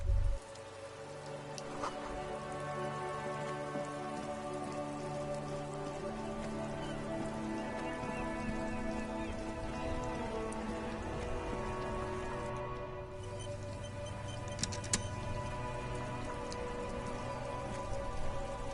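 Rain falls steadily in the video game Disco Elysium, a constant patter with sustained musical tones running underneath.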